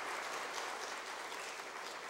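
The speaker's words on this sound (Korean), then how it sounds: "격려의 박수 한번 보내도록 하죠" A church congregation at a Thanksgiving Sunday service applauds, steady dense clapping that fills the room evenly for a couple of seconds.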